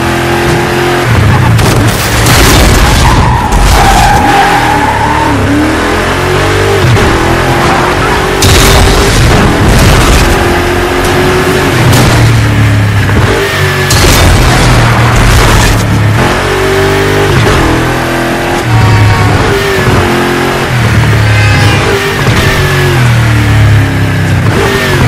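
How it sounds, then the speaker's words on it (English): Cars in Burnout Paradise race and crash through gates around Paradise City. Loud engine roars and revs are punctuated by repeated booming impacts and crunching smashes throughout. "Smash through all the gates in Paradise City."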